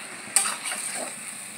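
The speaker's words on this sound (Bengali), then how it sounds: "এবার এটাকে নাড়তে হবে" Ground pea paste being stirred in a pan, giving a short soft scrape followed by a faint wet sizzle under low background hiss.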